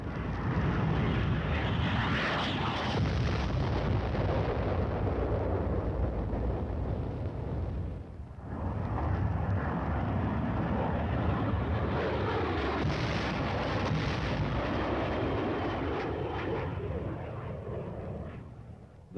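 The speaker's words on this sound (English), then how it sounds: "The deadly napalm is dropped in a veritable blanket of destruction over the enemy's position." Military aircraft dropping napalm on dug-in enemy positions: a sustained, loud roaring rush of engines and burning blast, briefly dipping midway before swelling again and fading slightly at the end.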